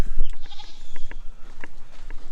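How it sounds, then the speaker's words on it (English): Short goat bleats recur in quick succession, close and fairly loud, with a few scattered knocks and shuffles between them. "these goats have been enjoying every bit of it"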